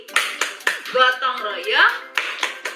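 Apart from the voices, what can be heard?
children clapping the Tepuk PPK clap chant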